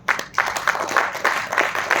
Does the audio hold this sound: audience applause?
yes